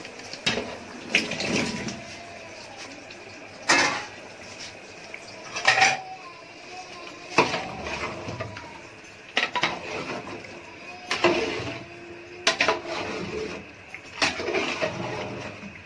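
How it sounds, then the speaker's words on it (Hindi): Large cut potatoes tipped into a big cooking pot (deg), heard as a series of loud metallic clanks and clatters from pot and utensils every couple of seconds, close by, with no voices. "ये आलू हम शामिल करने लगे हैं।"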